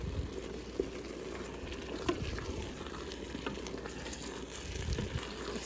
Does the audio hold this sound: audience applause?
no